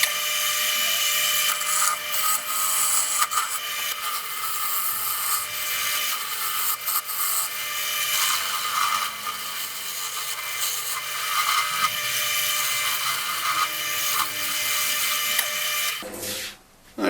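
Wood stock spinning on a lathe is rounded down on a new tenon, giving a loud, continuous rasping cut that runs steadily for the whole stretch before stopping abruptly near the end.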